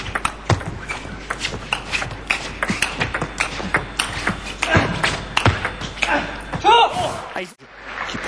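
Rapid light taps of a table tennis ball during a men's singles tournament match rally, a quick irregular clicking under continuous French commentary and crowd noise.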